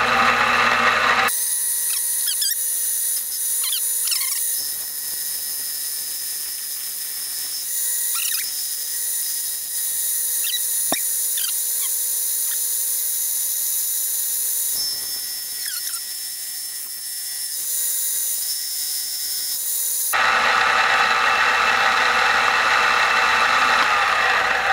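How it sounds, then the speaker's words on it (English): A cheap Dremel-style rotary cutting attachment, run in low gear at around 1,000 rpm, cutting cold rolled steel: a steady high-pitched whine and grind that continues for about twenty seconds with scattered scraping squeals, louder when cutting starts and stops. "Let's just be daft and see if this will cut some cold rolled."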